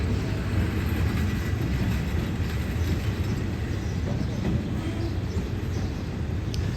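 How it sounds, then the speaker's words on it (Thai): Thai railway train 140 from Ubon Ratchathani pulls into Krung Thep Aphiwat Central station with a steady, close rumble and low mechanical roar that fills the whole stretch without pause. "ถึงยันแล้วครับ ขบวน140 จากอุบลราชธานี"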